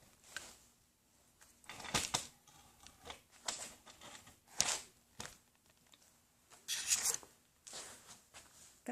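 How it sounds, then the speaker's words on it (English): Backing paper similar to freezer paper being peeled off a quilt piece during restoration: a run of soft crinkly tearing and rustling bursts, irregular and close, with quiet gaps between pulls. "We're going to pull off the backing that looks like freezer paper."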